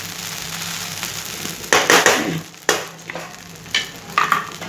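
Sabudana khichdi stirred and sautéed in a pan, a soft frying sizzle broken by several scraping stirs of the spatula, close and moderately loud, with no talking.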